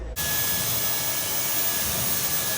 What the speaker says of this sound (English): this is the most powerful cordless vacuum cleaner